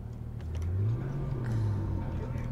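A car in Cyberpunk 2077 driving and picking up speed: a steady engine hum rises in pitch as it accelerates, then levels off, with voices talking over it.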